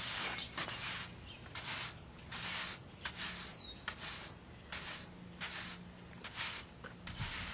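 A brush sweeps asphalt crack filler smooth on a driveway in repeated short, breathy scrubbing strokes, roughly two per second, soft and close with no voices.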